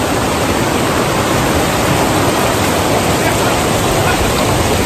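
A river rushes below a steep trail descent near Alajuelita, a loud, steady broadband roar of water that fills the whole scene without pause.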